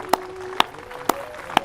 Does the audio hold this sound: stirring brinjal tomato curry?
no